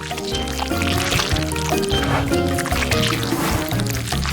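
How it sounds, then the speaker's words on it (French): Cake batter poured into moulds, a thick wet glugging and squishing flow that runs steadily, close by, with faint background noise and no clear talking. "Ensuite, on verse la pâte dans les moules."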